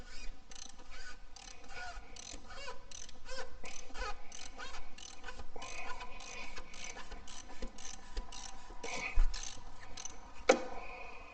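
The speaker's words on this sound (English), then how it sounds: "So I put the socket wrench on it, loosen it up" Socket wrench ratcheting to loosen a bolt, a steady run of close, evenly spaced metallic clicks over a low background hum, with a sharper clack near the end.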